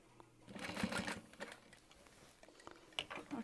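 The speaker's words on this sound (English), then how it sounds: "I'm gonna back stitch up and down and back up" A sewing machine runs in short bursts while stitching a crossbody bag, its needle chattering rapidly and close by, pausing between runs for back stitching with small clicks in between.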